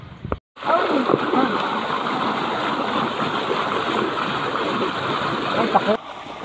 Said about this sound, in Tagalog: dinidry na yung tubig para maiahon na lahat yung mga hito